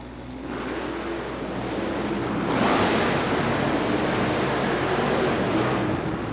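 A 512-cubic-inch Chevrolet monster truck, Equalizer, roars into a race against Nightlife at a 1990 event in Albuquerque, New Mexico, a broad rushing engine roar that swells sharply partway through and stays loud, with the crowd and arena adding to the din.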